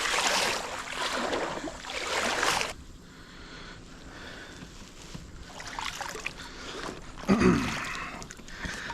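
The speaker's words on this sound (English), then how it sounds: "Kind of like paddling with my hands," Bare hands paddle a kayak on a river, making close, uneven splashes and swishes of water, with bursts of churning in the first seconds and again near the end.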